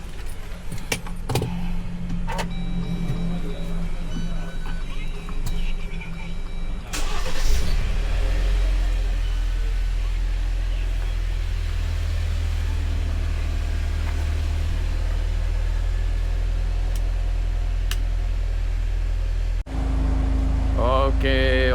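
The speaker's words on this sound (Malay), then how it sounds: "Enjin sudah panas." A Honda X-ADV 750 scooter-style motorcycle engine idles and warms up at night, a steady close low rumble running throughout, with keys jangling and a few clicks and knocks near the start.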